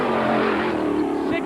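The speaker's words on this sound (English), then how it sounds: "You can hear they're keeping the motor revved up." A race car engine is held at high revs during a tire-changing pit stop at the 1997 Indianapolis 500, a sustained near droning whine with a voice talking over it.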